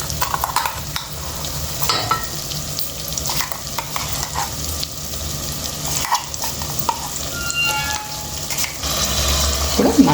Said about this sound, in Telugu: మసాలా మనమంతా దీంట్లో మసాలా మంచిగా పచ్చివాసన అయ్యే వరకు ఫ్రై చేద్దామండి